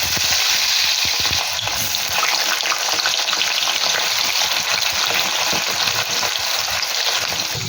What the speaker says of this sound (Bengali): খোসাগুলো, সেইগুলো তেলে দিয়ে ফ্রাই করে নেব